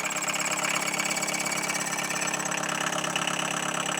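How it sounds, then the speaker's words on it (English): A Volkswagen Golf Mk1, revived after sitting for twelve years, runs steadily under load with a loud, even engine drone and a buzzing rattle from the hood, continuous with no talking. "I thought that was the engine, but I think it's the hood."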